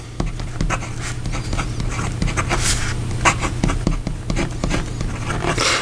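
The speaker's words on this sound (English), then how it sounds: "here we go with the writing sample for the Narwhal" A Narwhal piston-filler fountain pen with a fine nib scratches across paper in quick, close strokes, short scrapes and taps following each other in an uneven writing rhythm with no speech.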